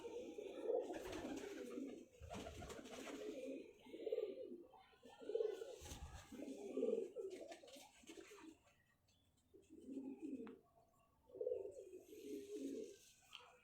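Pigeons in a loft coo in repeated soft, throaty bursts, several calls overlapping close by with short pauses between, faint and intimate, with someone speaking quietly now and then.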